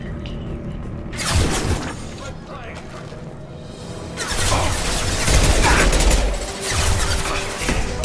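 Gunfire in Mass Effect 2, Legendary Edition: bursts of loud, dense shots with mechanical clatter and crashes come in two clusters, with a gap of quieter game ambience between them.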